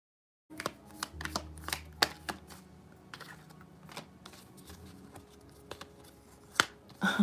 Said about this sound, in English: This sun card keeps wanting to be seen